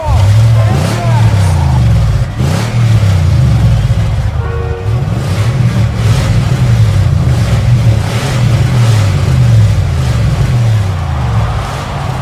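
Race car engines in Live for Speed, a loud continuous roar with repeated revving swells and gear shifts, several cars close together throughout, with a commentator talking over the noise.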